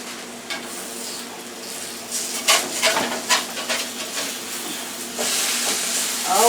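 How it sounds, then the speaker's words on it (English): Home fries and onions sizzling on a new grill, a steady frying hiss with scraping and stirring of a spatula in bursts, growing louder toward the end, no voices. "let's check on our home fries and onions that are cooking"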